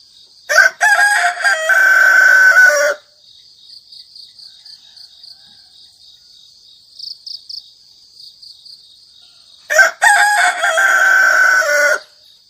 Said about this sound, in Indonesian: suara ayam jantan berkokok mulai terdengar